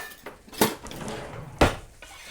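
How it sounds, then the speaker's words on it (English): A metal bench scraper clanks twice against a skillet while chopped onion is pushed into it, two sharp close knocks with softer shuffling between them. "So let me just grab a bench scraper."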